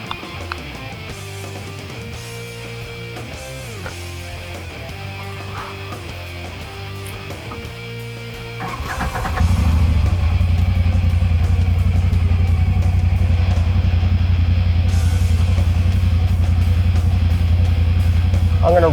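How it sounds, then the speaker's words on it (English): A UTV engine starts up partway through after a stretch of music, then idles steadily with a loud, deep, continuous rumble. "run the car to get the flush throughout the cooling system"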